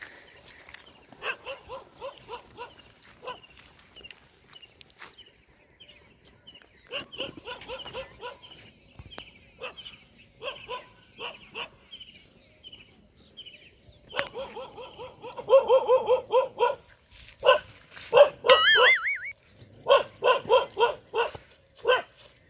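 A dog barks in repeated short bursts and yips, moderately close, with occasional whimpers and louder barking toward the end, amid a comedic household scene.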